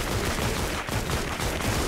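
Firecracker explosions from the Chinese New Year event in Fortnite: Save the World, heard as a continuous, dense run of loud crackling pops and bursts that fills the whole stretch without a break.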